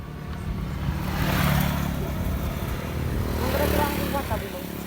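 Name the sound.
Ninja motorcycle engine running after tune-up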